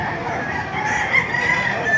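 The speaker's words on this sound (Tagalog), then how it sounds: "marami palang manok dito sa loob" Chickens and a rooster at a live poultry market in Baliuag, Bulacan, with clucking and a crowing call rising over a busy, continuous backdrop of bird noise, fairly close.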